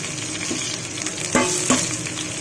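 Vegetables fry in a pan with a steady sizzle, broken by a couple of scraping stirs of the spatula close by.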